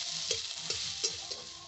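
Chopped ginger, green and red chilli and onion frying lightly in oil, a soft steady sizzle with occasional stirring scrapes at a gentle rhythm, close and quiet.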